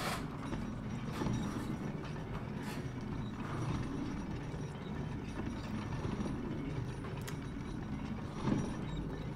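A minecart mechanism in the dark puzzle-platformer video game Little Nightmares rumbles and rattles steadily, with clanking metal, grinding gears and occasional sharp clicks over a dense low mechanical drone, heard without talking.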